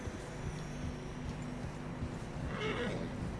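Horses in the video game Red Dead Redemption 2 plod through fresh snow with soft hoofbeats under a steady wind-like background, and one horse gives a short whinny near the end.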